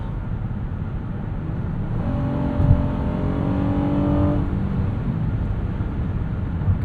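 A 2025 Honda Odyssey minivan with a 10-speed automatic kicks down and accelerates at about 80% throttle, a steady engine drone rising in pitch over a couple of seconds inside the cabin, then settling back.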